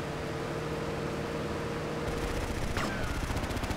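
Rapid automatic gunfire in GTA Vice City over a steady wash of engine and street noise, with the bursts thickening into dense, fast crackling in the second half.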